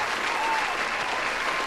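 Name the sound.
applause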